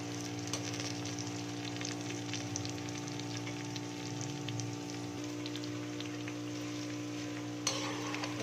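Okra (bhindi) fries in hot oil in a pan, giving a steady close sizzle with scraping and stirring noises throughout, and a brief clatter near the end.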